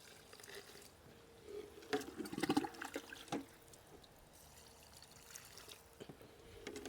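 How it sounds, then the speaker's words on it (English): Water is poured from a container onto garden plants, a soft, faint splashing and trickling that swells briefly in the middle and then fades to quiet dripping. "why are you going back and watering those?"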